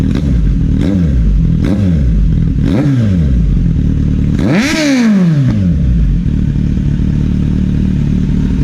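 A Kawasaki Z900 SE motorcycle fitted with a burnout exhaust pipe revs loudly and close: four quick throttle blips, then one longer, higher rev that falls back to a rough, rumbling idle.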